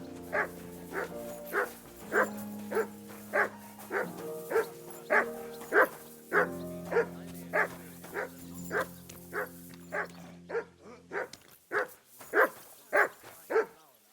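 Dog in Kingdom Come Deliverance 2 barking repeatedly in an even rhythm, about twenty sharp barks close by over a low musical drone.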